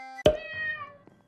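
A single cat meow from the video game Minecraft, a short, clear, close call that rises sharply and then fades out over about a second.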